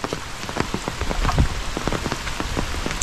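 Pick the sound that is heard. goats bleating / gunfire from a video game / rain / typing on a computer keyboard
rain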